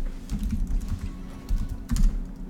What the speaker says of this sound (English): Stop typing! Stop typing!